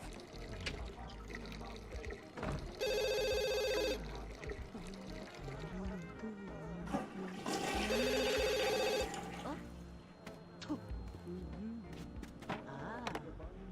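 Two separate bursts of a telephone ringing in The Sims 2 video game, loud and electronic, with Sim chatter and game sounds between them.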